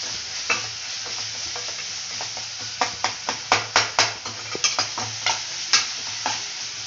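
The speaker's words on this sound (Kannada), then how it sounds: "ಅದು ಟೊಮೆಟೊನು ಚೆಂದಾಗಿ ಫ್ರೈ ಆಗಬೇಕು" Tomato fries in a pan under a steady sizzle, then a run of sharp, rhythmic spoon taps and scrapes against the pan, close and fairly loud, with no voices.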